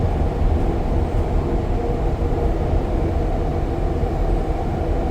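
Onboard ride on a southbound REM light rail train between Central and Brossard stations, a steady loud rumble of wheels and motors running continuously without pause.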